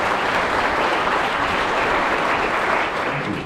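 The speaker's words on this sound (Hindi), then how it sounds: "तालियों के साथ उनको स्वागत करें।" A church congregation at St. Thomas gives a dense, continuous round of applause to welcome the Archbishop of Ranchi before Mass, steady and loud throughout with no pauses.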